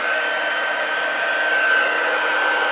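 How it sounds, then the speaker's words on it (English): A heat embossing tool blows hot air in a steady, loud whir over a card's stamped centers, with no talking. "I'm going to heat emboss the centers there."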